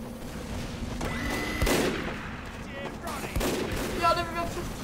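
Team Fortress 2 gunfire crackles in scattered bursts alongside game effects, fairly quiet, with talk mixed in.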